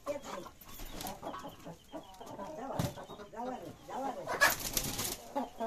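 Several hens cluck and murmur at a home in dense forest, soft repeated calls close by, mixed with voices of people talking and occasional rustling.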